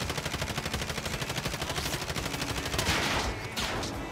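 Sustained automatic gunfire in the battle royale game Warzone, a steady, loud, rapid rattle of shots throughout, with a brief heavier crackle near the end.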